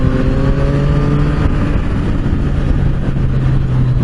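A 2022 Yamaha MT-09 V3 motorcycle engine pulling hard under acceleration, a loud, steady drone heard from the rider's position with rising engine tones and wind noise, and no voices.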